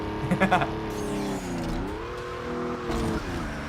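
Cars in the racing video game Need For Speed Underground Rivals roar along with engine whine and tire noise, with loud clunking gear-shift effects behind; someone talks over the game audio throughout.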